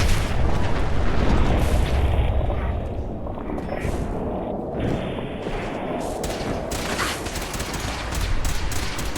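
Dense, continuous gunfire and explosions in Fallout 4 combat, heavy booming rumble with rapid shots layered throughout, loud and unbroken.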